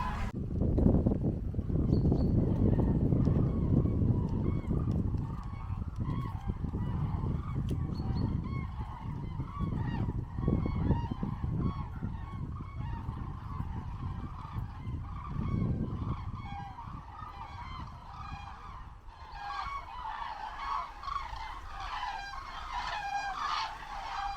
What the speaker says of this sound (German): Und jetzt kommen gerade übrigens wieder Wildgänse, beziehungsweise die Vögel am Himmel.